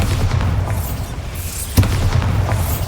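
Bombarda blasting spell in Hogwarts Legacy gameplay, a sharp loud explosive crack partway through amid a rumbling low-end din of ongoing spell combat, with no talking.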